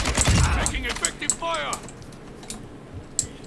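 Gunfire from an RPK machine gun in Call of Duty: Modern Warfare II DMZ/Warzone, heard as scattered sharp shots mixed with other game effects under a voice talking.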